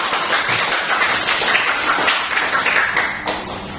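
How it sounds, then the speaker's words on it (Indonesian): A classroom audience applauds a student group after their presentation, a dense, steady wash of clapping from many hands that holds roughly even throughout and tapers slightly near the end. "jadi kita berikan aplaus untuk kelompok 3"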